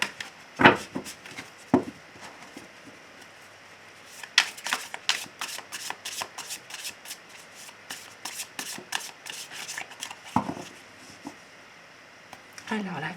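Tarot cards are shuffled for a love reading, with crisp riffling bursts and quick flicking runs close up, separated by quieter pauses, while someone speaks French over them.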